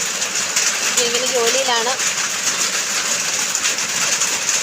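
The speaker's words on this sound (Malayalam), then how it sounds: "ഭയങ്കര മഴയാണ്" Heavy rain pours in a steady, dense hiss that fills the whole stretch, with a voice speaking briefly over it.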